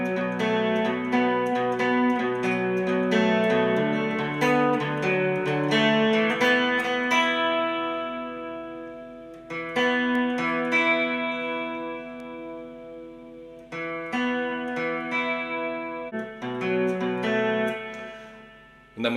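Electric guitar playing the arpeggiated part of a song, steady picked notes ringing together through effects with a chorus-like shimmer, loud and continuous with brief breaks.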